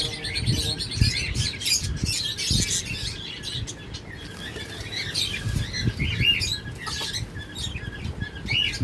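Pet lovebirds, cockatiels and java birds chirp and tweet in busy overlapping bursts, close and lively, with occasional rustling and fluttering among the caged birds and no talk.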